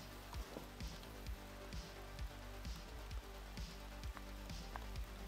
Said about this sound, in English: Wow, it's starting to really rain on us now.